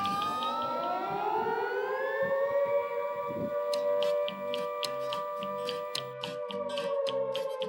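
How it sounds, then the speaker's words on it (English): Civil defense style curfew siren sounding across Churchill town at night, a loud sustained rising wail that holds steady, with faint ticking clicks behind it. "you'll hear this siren play throughout the town to remind you"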